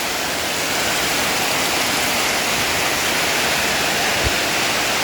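Floodwater rushes down through a drainage channel at a flooded eatery, a steady, loud hiss of flowing water that fills the whole stretch, with one faint low thump near the end.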